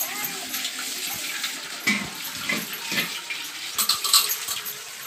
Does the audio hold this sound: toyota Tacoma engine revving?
no